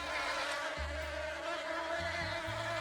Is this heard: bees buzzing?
yes